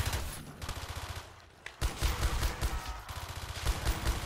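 Rapid, loud PM93 gunfire in a Call of Duty custom zombies video game, fast repeated shots in bursts with a short pause before firing resumes.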